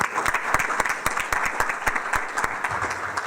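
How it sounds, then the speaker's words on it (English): An audience at the Wisconsin Book Festival claps in a steady, lively round of applause, with sharp individual claps standing out from the crowd's dense patter. "Let's give yourselves a round of applause for that."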